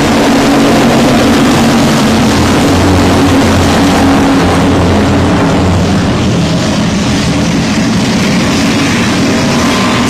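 Race cars at I-37 Speedway roar together at the green flag start, a loud, dense, continuous engine rumble that swells and then thins slightly as the pack pulls away.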